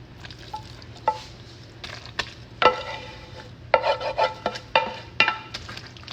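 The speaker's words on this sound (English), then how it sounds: "all we're gonna do is dump it in our pan." Taco spaghetti noodles coated in sauce get dumped into a pan and spread around, with wet, intermittent scraping and sloshing strokes of a utensil over a faint background hum.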